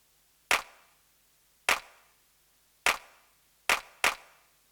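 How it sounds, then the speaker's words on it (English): An isolated clap drum sample for a remake of a song plays five times, each a sharp, punchy snap with a short tail; the hits are evenly spaced at first, with the last two landing close together. "But here is the clap alone."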